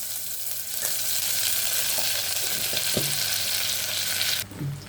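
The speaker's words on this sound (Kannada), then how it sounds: "ಈಗ ನೋಡಿ ಒಂದು ಪೀಸು ಬಟರ್ ಹಾಕ್ತೀನಿ ಇದಕ್ಕೆ" A piece of butter melting and sizzling in a spoonful of hot oil in a pan, a loud, steady frying hiss with a few light utensil taps, cutting out abruptly near the end.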